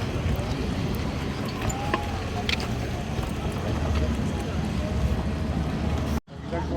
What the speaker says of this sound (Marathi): हे आमच्या स्पीड बोट आहेत आणि ह्याच्यातूनच आम्ही जाणार आहे।